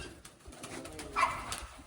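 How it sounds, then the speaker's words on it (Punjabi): A pigeon on a rooftop coos in a short, soft phrase close by against quiet outdoor background noise. "ਉਹ ਦੇਖੋ ਕਬੂਤਰ ਬੈਠਾ ਇੱਕ"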